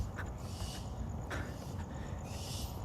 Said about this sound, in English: Somebody owns a parrot or some kind of bird, I think, that's shrieking like that.